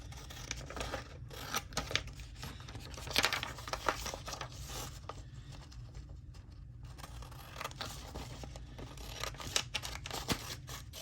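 Scissors snip and slice through paper for a junk journal, a steady run of crisp cuts with paper rustling and crinkling in between, close up and without talk.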